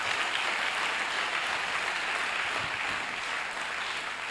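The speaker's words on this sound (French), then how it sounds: "Est-ce que les gens qui reçoivent la parole peuvent acclamer très fort pour le Seigneur?" Church congregation applauding and cheering for the Lord, a dense, steady roar of clapping and shouting from a crowd, loud and sustained throughout.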